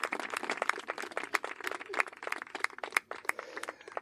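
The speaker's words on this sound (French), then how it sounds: "Allez, on applaudit quand même un petit peu." A small audience claps in scattered, uneven hand claps, a light ragged patter of individual sharp claps at moderate distance that continues for several seconds without voices.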